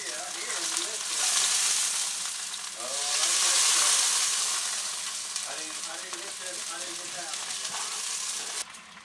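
Mongolian beef sizzling as meat is added to a hot pan with oyster sauce, a loud steady frying hiss that swells and fades, with faint talk underneath.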